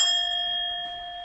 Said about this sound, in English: I'm the one who's supposed to be ringing the bloody bells